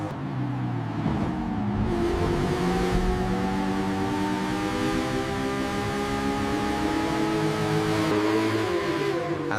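A Bugatti Bolide race car accelerates hard down the Kemmel Straight at Spa, a loud, steady engine roar with rising tones that holds for the whole stretch, with no voices.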